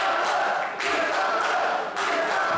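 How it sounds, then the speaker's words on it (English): A wrestling crowd at a UK show chants for the Persian powerhouse Mustafa Khan, a loud, rhythmic wall of voices rising in repeated surges with no commentary over it. "The crowd here calling for the Persian powerhouse Mustafa Khan in this match"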